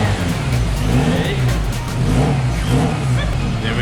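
A turbocharged Mazda RX-8 rotary engine runs and revs steadily after a hard start, a loud, close, continuous rumble with rising and falling throttle.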